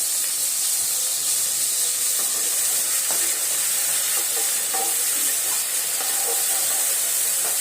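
Chopped tomatoes frying in hot oil hiss and sizzle loudly as a little water goes in, a steady, dense crackle close by with faint scraping, no speech.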